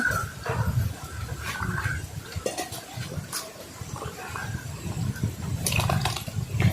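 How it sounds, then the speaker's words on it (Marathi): Water is poured into a spicy village-style mutton curry with masala, making a continuous splashing, gurgling sound nearby that swells and settles over several seconds. "थोडंसं पाणी घालून घेऊया"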